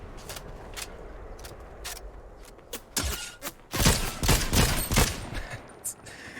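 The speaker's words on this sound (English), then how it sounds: "Please keep shooting at me there" Video game gunfire, first sparse single shots and then a dense cluster of loud rapid bursts in the middle, followed by a few more scattered cracks, with no talking.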